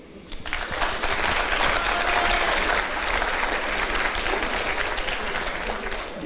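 Sustained, loud applause from an audience at a university institute graduation ceremony, dense clapping that starts abruptly and holds steady with light crowd murmur.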